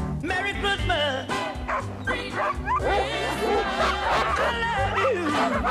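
Sled dogs on Mont-Valin bark and yip continuously and loudly in a dense chorus, with whimpers mixed in during a frigid winter sled-dog outing.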